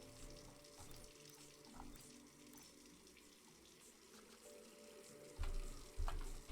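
Water pours steadily into a brewing pot being filled with 21 litres in the Brewmaster beer brewing simulator game, a continuous close rushing stream with a couple of louder knocks near the end.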